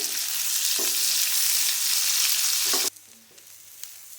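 Finely sliced medium onion frying with cumin seeds in a pan, a steady close broadband sizzle that cuts off abruptly partway through, leaving quiet room tone with a few faint clicks.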